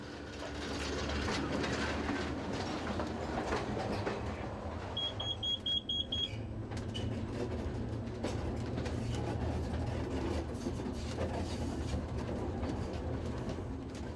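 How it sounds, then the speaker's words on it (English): Electric locomotive number 4 of the Soller Railway on Mallorca pulls out of Bunyola onto a steepening left-hand curve, with a low rumbling hum, rhythmic wheel clatter, and a brief high squeal partway through. "As locomotive number 4 pulls out of Bunyola and begins a long left-hand curve, the incline gets noticeably steeper"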